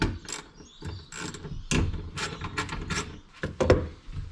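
A 10mm socket wrench undoes the fuel pump cover bolts on a Civic during a Walbro 460 fuel pump install, giving close, irregular ratcheting clicks and metallic knocks in short bursts.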